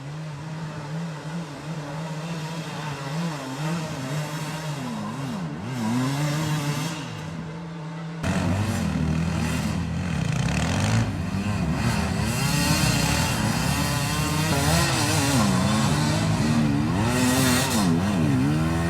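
Hard enduro motorcycle engine revving at a race start in Stara Zagora, a steady drone that jumps louder and busier at about eight seconds as the bike pulls away with rising and falling revs, no talk.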